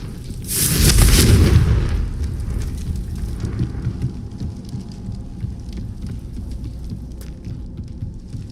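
A Confringo fire spell from Hogwarts Legacy erupts in a loud, close boom with a crackling burst, then fades into a long rumbling, hissing tail of flames and debris.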